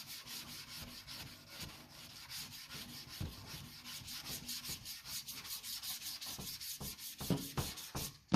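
Hand block sanding of CRE321 primer on a 1980 Suzuki GS750 motorcycle gas tank, a quiet steady back-and-forth rasping rub with a regular stroke rhythm, heard up close without talking.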